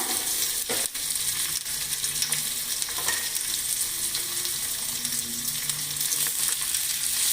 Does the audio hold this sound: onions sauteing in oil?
yes